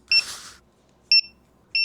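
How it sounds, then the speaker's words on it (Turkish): Homemade Counter-Strike C4 bomb prop giving sharp electronic beeps, one after a short rustle and two more spaced evenly about 0.6 seconds apart, clear against near silence. "Son 3 saniye boyunca ışığın sürekli yanması gerekiyor bu arada ve bip sesi aktif olarak devam edecek"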